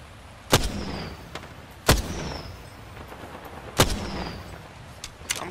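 Gunshots from weapons in the shooter video game Apex Legends: a few sharp, loud single cracks spaced irregularly over a steady background hum, with faint smaller pops between them.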